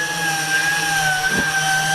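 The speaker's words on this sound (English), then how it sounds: "The man with a sanding machine" An electric sanding machine runs beside a boat hull in a boatyard where gel coat is being wet sanded, a steady whining drone with tonal hums that continues throughout at moderate loudness, with no talking.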